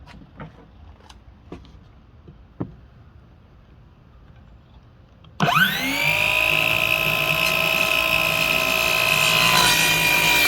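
A battery-powered saw cuts wood for bed legs. After quiet handling noises, the motor starts with a sudden loud whine and then runs steadily and close for about five seconds.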